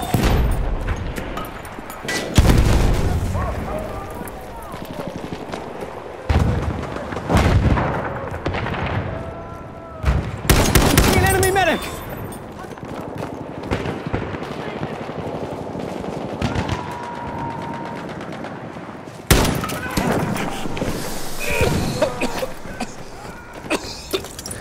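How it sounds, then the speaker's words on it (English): Battlefield 1 team deathmatch on the Amiens map: bursts of machine gun fire and rifle shots crack at close and middle distance, with heavy reports and distant explosions rumbling through the battle. "Enemy machine gun sighted!"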